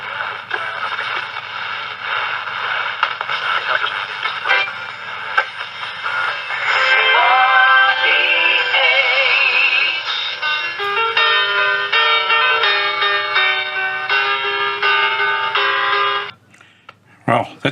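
A Philco transistor radio tuned to AM station 4BH plays a band-limited broadcast of speech and then music, close and fairly loud, cutting off near the end.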